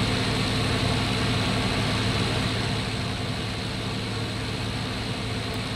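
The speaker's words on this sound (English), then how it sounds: "His engine has lost the power." Steady, loud drone of a WWII-era aircraft engine in the Cliffs of Dover flight game during an online bomber escort; a dense, unbroken roar that holds at an even level throughout.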